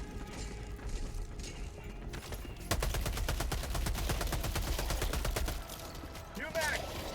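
A gun being reloaded with a new magazine in the Helldivers 2 video game: mechanical clicks and a ratcheting rattle give way to a rapid burst of automatic gunfire, with battle noise all around.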